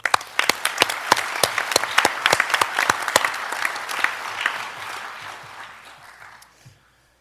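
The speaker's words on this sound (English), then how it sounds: "One more round of applause, if you will." Applause at a school board meeting, a lively burst of clapping from a seated audience that starts dense and loud and then thins out and fades to silence over several seconds.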